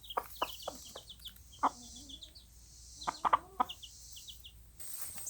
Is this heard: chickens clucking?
yes